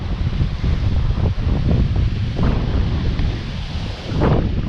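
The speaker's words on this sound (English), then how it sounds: "wind is really gonna make this audio crusty" Strong wind blows straight into the microphone beside a public pond, a loud, constant low rumbling roar with gusty surges and no speech over it.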